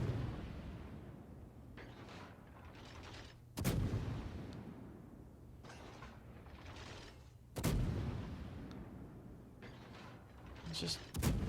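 Heavy naval guns of an enemy Montana battleship boom in a naval video game, three loud blasts about four seconds apart over steady rumbling battle noise, with a voice talking in between.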